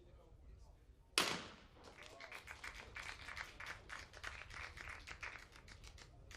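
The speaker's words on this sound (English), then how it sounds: "A very polite round of applause for Matt Coward Holly." A modest, polite round of applause from a small crowd at a clay trap shooting event, scattered hand claps of moderate loudness following a sharp burst, with faint talk around it.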